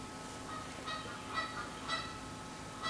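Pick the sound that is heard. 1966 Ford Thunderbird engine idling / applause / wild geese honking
wild geese honking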